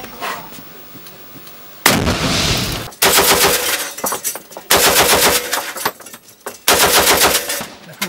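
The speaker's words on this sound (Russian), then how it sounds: "выстрел!" Loud bursts of rapid automatic gunfire in a combat firefight in Ukraine, several sustained volleys separated by short pauses, close and sharp.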